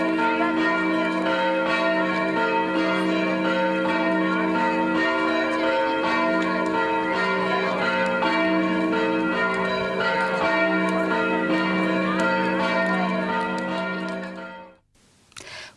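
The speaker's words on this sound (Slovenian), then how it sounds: "Prav pri vseh cerkvah so romarje zvonovi takole pozdravili." Church bells at a Slovenian church ring out to greet pilgrims on their way to Nova Štifta, a loud, continuous peal of overlapping tones that carries on steadily before cutting off abruptly near the end.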